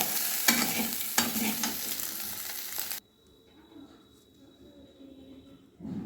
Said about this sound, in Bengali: এবারে আলু বেগুনগুলো আমি ভেজে নেব।